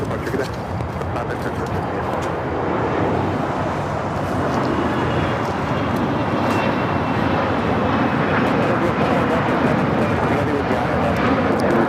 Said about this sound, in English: Global 6000 taking off.